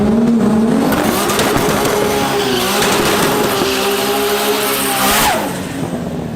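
A car from Adam LZ's collection, loud and close, its engine revving with rising and falling pitch and tires squealing in a sustained skid before the sound eases off near the end.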